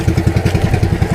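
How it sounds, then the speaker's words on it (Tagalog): A fishing boat's engine sputters out at sea, a rapid, uneven chugging throb of low thumps that misfires in a steady but ragged rhythm, loud and close with no talk. "Palya-palya pa ng makina natin, no?"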